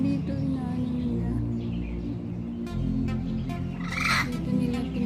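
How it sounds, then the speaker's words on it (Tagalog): Birds squawk in the open air at Tai Po waterfront park on a morning walk: a few harsh, scattered calls, one clearer burst near the end, over a constant low background hum. "Dito nila pinapalaro yung mga ibon."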